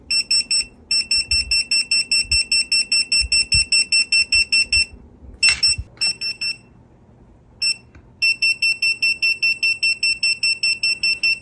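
A handheld detector held near a wall plug sounds a rapid, steady train of sharp electronic beeps, broken by a thump and a pause of a few seconds before the beeping resumes.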